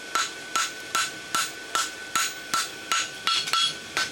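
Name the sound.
hammer blows forge-welding a horseshoe scarf on the anvil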